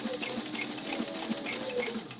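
A sewing machine stitching a second row around a leather wallet clutch, running in a fast, even rhythm of close mechanical ticks and whirs for a couple of seconds.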